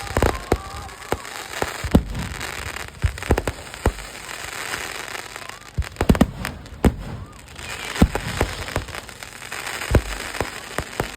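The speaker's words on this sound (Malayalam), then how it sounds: "കുറച്ചു നേരം കഴിയുമ്പോഴേക്കും വെടിക്കെട്ടിൻ്റെ സമയമായിട്ടാ." Fireworks at a temple festival (pooram) in Kerala: a dense series of sharp cracks and bangs, some near and loud, others distant, with crackling between and faint crowd noise.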